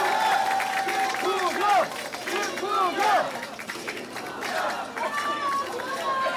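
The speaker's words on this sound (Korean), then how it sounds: "박수 한번 해주십시오." A crowd at an outdoor political campaign rally in Daegu applauds and cheers continuously, a dense wash of clapping mixed with shouts and excited voices throughout.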